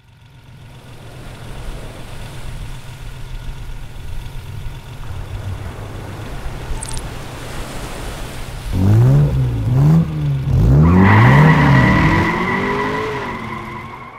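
A Ferrari sports car idles with a low engine rumble, then revs loudly and skids with several rising and falling tire squeals, close and dominant, no talking.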